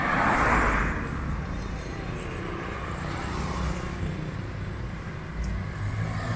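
Cars pass along a city street in a steady wash of traffic noise, one louder vehicle swelling near the start and another late, heard from the curbside with no talk.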